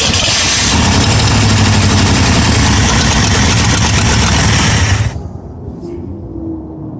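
A 1965 Ford Mustang with a 289 engine, four-speed and leaky exhaust, hot-wired through the ballast resistor, runs loud and rough for about five seconds, then suddenly cuts out, leaving near quiet.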